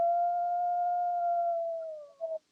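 A single long wolf howl sustains a clear, steady pitch, slowly sliding lower before a short wavering tail, heard alone and fairly faint in a radio spot.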